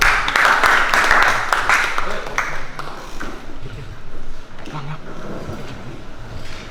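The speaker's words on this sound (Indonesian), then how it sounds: "Beri tepuk tangan untuk kelompok 1." Group applause in a classroom for presenting students, a burst of close clapping that tapers off after a few seconds into quieter room noise and murmuring voices.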